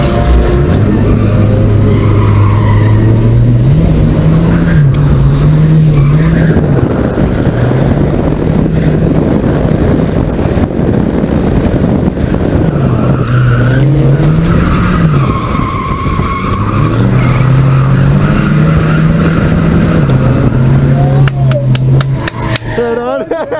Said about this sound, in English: Volvo 240 drift.